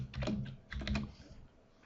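Quick bursts of typing on a computer keyboard, close and quiet, two short clusters of key clicks with a pause between, entering notes into an order form.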